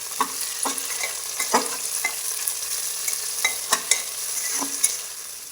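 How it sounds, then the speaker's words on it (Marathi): Tomatoes and a bay leaf frying in a pan for village-style pulao rice: a soft, continuous sizzle under repeated scraping and knocking as a spoon stirs, with several sharper clacks against the pan. "ते झालं की टोमॅटो टाकून परत हलवायचं"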